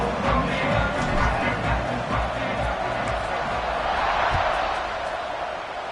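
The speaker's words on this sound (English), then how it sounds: "this crowd is buzzing after that last score" A stadium crowd in a football video game keeps up a steady, loud buzz of cheering and murmur after a score, continuing without a break throughout.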